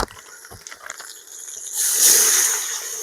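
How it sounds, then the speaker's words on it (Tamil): Water poured into a cooking pot of goat leg soup (mutton paya) with tomatoes in an outdoor village kitchen; a short rushing splash builds midway and keeps going, following a few light clinks and soft handling sounds. "தேவையான அளவு தண்ணி ஊற்றிக்கலாம்."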